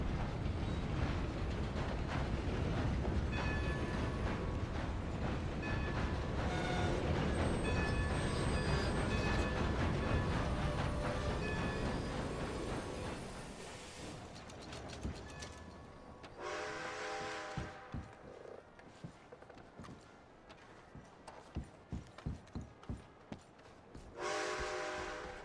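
A train rolls past in Red Dead Redemption 2, a loud, dense rumble of wheels and cars that fades out around the midpoint, followed by sparse clanks and a few bright tonal bursts.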